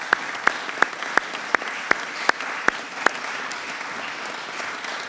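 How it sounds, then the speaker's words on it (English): Slow, evenly spaced claps, about nine in a row, sound one after another in a House Armed Services Committee meeting room, each crisp and distinct over faint background noise. "I'm going to ask you to give our staff a round of applause."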